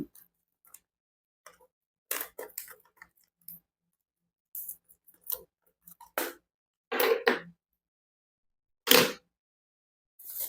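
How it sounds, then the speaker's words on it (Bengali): Scissors snip open a packet of premium loose-leaf tea, a few short crisp cuts and rustles scattered among quiet pauses, close and fairly faint, with no talking. "আমি একটু প্যাকেটটা কেটে নিই"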